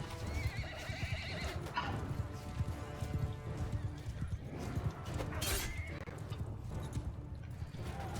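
A horse in the medieval combat game Mount & Blade II: Bannerlord whinnies loudly amid clip-clopping hooves and battle clatter, with a voice speaking faintly underneath.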